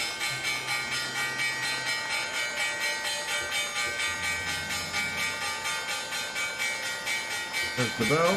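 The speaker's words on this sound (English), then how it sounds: "There's the bell." Stock market opening bell ringing continuously in rapid, evenly pulsing strokes for several seconds at a moderate level, ending with a brief louder clatter.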